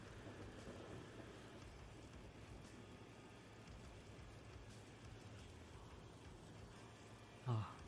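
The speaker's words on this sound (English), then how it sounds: "An intense rain poured down on the forest." Heavy rain pours steadily over a forest in a visual novel game, a dense hiss of falling water with a brief low thud near the end.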